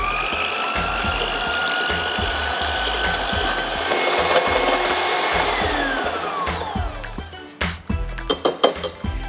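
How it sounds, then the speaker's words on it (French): Egg whites for a banana cake are beaten to stiff peaks with a mechanical whir. A steady, close motor whine slides down in pitch, then gives way to irregular clattering knocks toward the end, with no talking. "maintenant on va faire monter les blancs neige"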